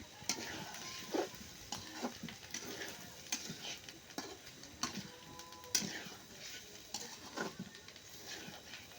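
Half-boiled potatoes with turmeric stirred in a pan, faint irregular clicks and scrapes of a spoon against metal over a soft, low sizzle, with no talking.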